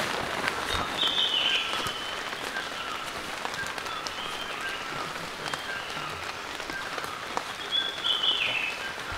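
Steady heavy rain patters on a surface at a forest campsite throughout, dense and continuous, with a few faint bird chirps drifting in from a distance.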